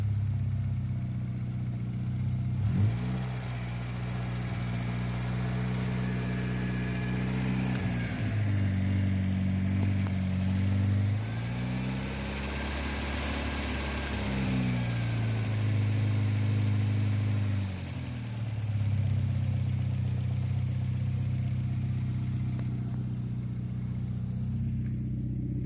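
A Golf Mk1 engine with a carburettor idles steadily, and its speed rises and falls noticeably during a vacuum advance test. Heard up close, with no talking.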